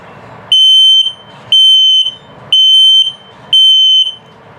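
RV LP and carbon monoxide detector on self-test sounds four loud, piercing electronic beeps in a steady on-off rhythm, each about half a second long, with quiet room hiss in the gaps.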